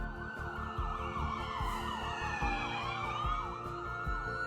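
Several wailing Cleveland EMS ambulance sirens overlap, rising and falling in sweeping tones over a low rumbling engine, loud and steady throughout.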